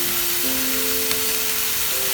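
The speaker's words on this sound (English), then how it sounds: "We're just going to saute these beautiful fresh oyster mushrooms." Fresh oyster mushrooms sautéing over high heat in a pan, a constant close sizzle and hiss with faint tonal hums beneath.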